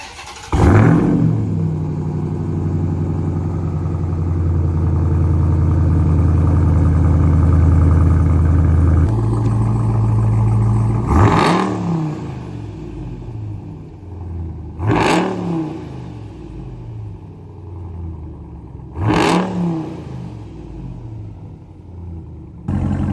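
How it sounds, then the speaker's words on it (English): A stock Ram TRX truck engine with its bone-stock exhaust idles in a low, steady rumble, then is blipped four times, each sharp rev rising and falling quickly before settling back to idle. "this is a stock configuration on the TRX with the bone stock exhaust"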